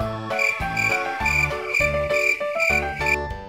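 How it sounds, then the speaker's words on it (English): A toy cricket sounds a close, rhythmic electronic chirp, with regular repeated pulses of bright tonal bursts and no talk. "cricket"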